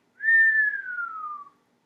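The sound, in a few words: whistling noise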